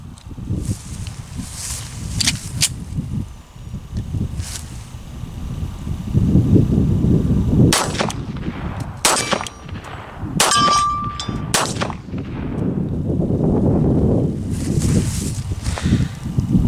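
A CMP 1911 Service Grade pistol fires a handful of sharp shots outdoors, each with a bright metallic clang and ringing, spaced irregularly amid rustling and wind.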